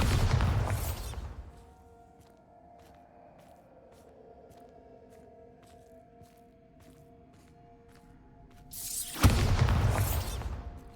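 Bombarda blasting spell in a Harry Potter video game, a loud explosive burst at the start and another near the end, with a quieter stretch of soft ticking between them.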